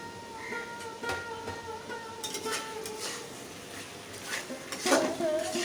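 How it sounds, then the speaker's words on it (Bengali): Spinach and fried eggplant are stirred in a pan, with soft scraping and clinks of a utensil against the metal, faint and intermittent over a low background hiss. "এখন নাড়াচাড়া করে"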